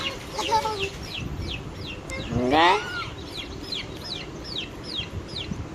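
A chicken clucks in quick, evenly spaced repeated calls nearby, with one louder squawking cry partway through and a brief voice in the background.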